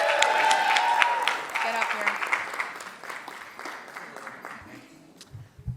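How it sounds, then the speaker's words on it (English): Audience applause for comedian Jake Shane at a live show, dense clapping that fills the room and slowly thins, with a voice calling out over it near the start. "let's all just clap it up for Jake Shane"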